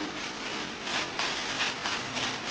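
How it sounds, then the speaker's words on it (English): Brush scrubbing stubborn stains inside the foam-coated shell of an abandoned Audi A6, close rhythmic rasping strokes repeating roughly every half second, loud and steady with no talk. "Scrub away the stubborn stains."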